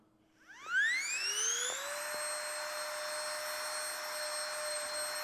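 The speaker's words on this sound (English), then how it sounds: "what we're going to use is the included air pump" An included electric air pump switches on while compressing a vacuum travel backpack. Its motor whine rises quickly in pitch, then settles into a steady, loud, tonal drone that continues to the end.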